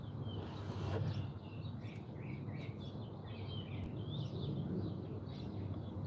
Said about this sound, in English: It's been so nice to hear the birds chirp in the morning